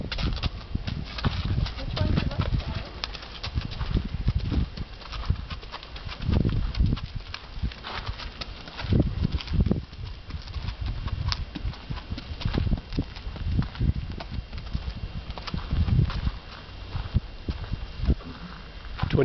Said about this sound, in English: A lot of horses here.